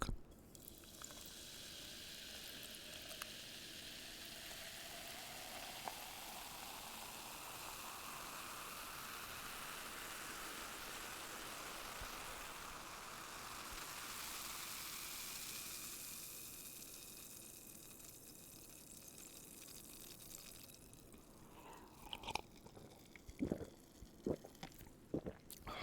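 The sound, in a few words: Diet Coke being poured and fizzing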